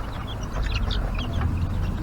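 Young chicks cluck softly in a coop, a few scattered calls over a steady low rumble of background noise.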